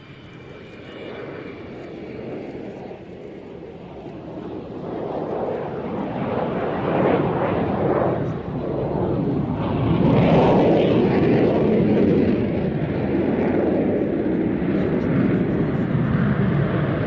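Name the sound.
aircraft flying past, recorded airshow footage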